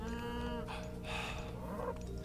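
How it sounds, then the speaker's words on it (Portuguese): Cattle moo in long, low drawn-out calls in the video game Age of Mythology: Extended Edition, a couple of overlapping lows over steady background ambience. "As vacas estão com bastante alimento, pega as vaquinhas aí."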